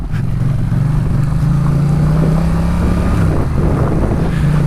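A motorcycle engine on a moto-touring ride drops back into first gear, its steady loud drone shifting pitch as revs change, with wind rushing over the microphone throughout.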